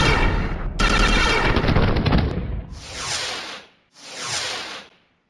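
Bursts of energy-weapon gunfire during space combat in the video game Star Traders Frontiers: one long dense volley, then two shorter separate bursts that fade out, loud and with no talk over them.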